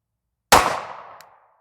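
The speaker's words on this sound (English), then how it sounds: "I'll fire 1 or 2 more." A single sharp pistol shot from a Sig P365XL fitted with a Holosun EPS Carry sight, a loud close crack followed by a short decaying ring and a faint metallic click just after.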